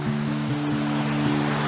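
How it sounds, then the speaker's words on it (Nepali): A waterfall on the Sudun Khola stream beside a rough road gives a steady, loud broadband rush that runs unbroken for the whole moment, with a low tonal hum underneath. "यो अगाडि देख्दै गरेको चाहिँ वाटरफल छ कि"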